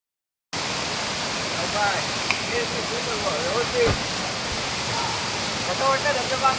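A village waterfall in the forest roars as a steady, loud broadband rush after a brief silent start, with voices faintly talking over the constant falling water.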